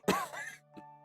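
A single throat clearing with a rough, voiced cough, loud and close, followed by a shorter, fainter grunt a moment later.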